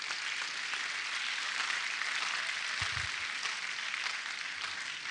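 An audience at a pharmaceutical society conference in Uyo applauds a visiting professor, a continuous, even roar of clapping from a large crowd heard from some distance, with one brief low thump partway through.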